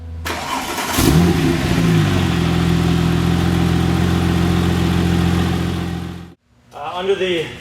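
A 2001 Porsche 911 Turbo's 3.6-liter twin-turbocharged flat-six starts and revs, holding a loud, steady roar close by for several seconds before cutting off and then revving again briefly.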